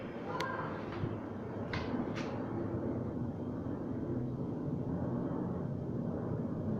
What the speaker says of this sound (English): There's a very loud plane passing by.